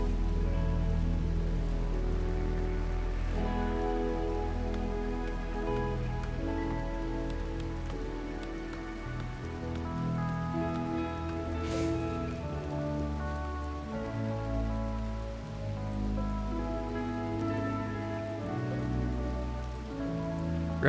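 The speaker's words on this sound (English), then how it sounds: "It'll rain now." Rain falls in the RimWorld video game, a steady, dense patter on the ground with a full low rumble that holds evenly throughout.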